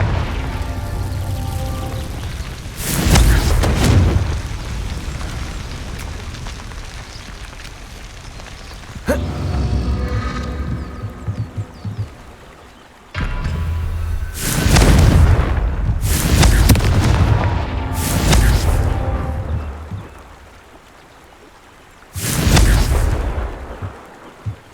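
Confringo spell blasts in Hogwarts Legacy burst out as several loud, rumbling explosions, each lasting a second or two, with quieter crackling between them.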